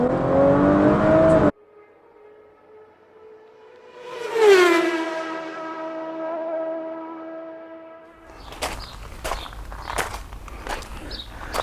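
Audi S4 B9 on launch control: a burst of noise cuts off, then the engine rises to a held, droning rev, followed by the launch with rougher, pulsing engine and thumping noise.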